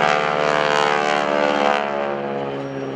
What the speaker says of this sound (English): the sound of not just the engine, but the propeller tips going supersonic